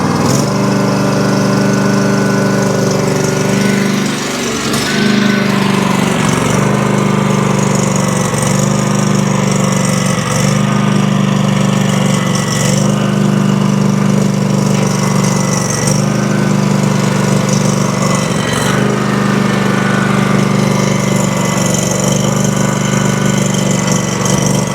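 A Craftsman DLT3000 riding mower's small engine, which runs rough, holds a loud, continuous drone at half throttle, with a steady buzzing hum and brief dips and surges in its note.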